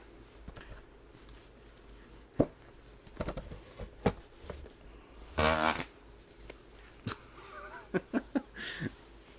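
A Buffy the Vampire Slayer complete-series DVD box set is pushed back into its cardboard case, giving one loud squeaky, rubbing groan among scattered soft clicks, taps and shuffles in a quiet room.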